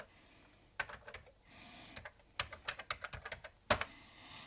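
Someone types on an Amstrad CPC computer keyboard, quiet close clacking in uneven bursts of a few keystrokes with short pauses, over a faint background hum.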